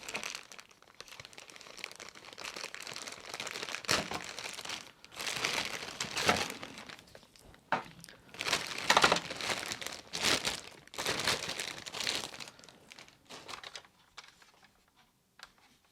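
Tape is peeled and torn from a vintage Kenner Star Wars X-Wing fighter toy, a close series of crinkling, ripping and crackling bursts with short pauses between pulls.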